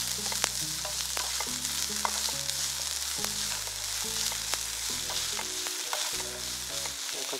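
Grated cabbage sautés in a pan on lowered heat, giving a continuous close sizzle with stirring scrapes and a low steady hum beneath.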